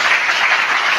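A church congregation applauding, a dense, steady burst of many hands clapping together, loud and close with no pause.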